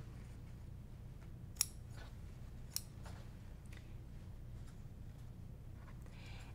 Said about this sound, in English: I'm gonna first just clip them apart.